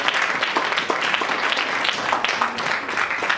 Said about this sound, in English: Let's clap our hands for Jesus once again.